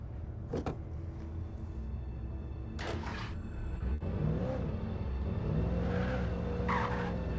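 A car driven in Alan Wake Remastered rumbles steadily with sharp thuds, then its tires squeal and skid with wavering, rising tones.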